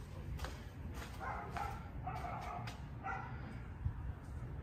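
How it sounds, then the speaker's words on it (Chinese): Dogs at a nearby beekeeping place bark outside, a string of several sharp barks and yips that sound fairly distant against a steady background hum. "外面是后面养蜂蜜那边，他们那边的狗在那边叫"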